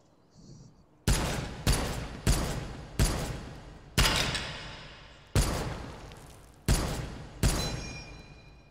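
Rifle gunfire in the virtual reality shooter H3VR: eight loud, sharp shots fired one at a time at an uneven pace, each with a ringing tail, after a brief quiet mechanical click.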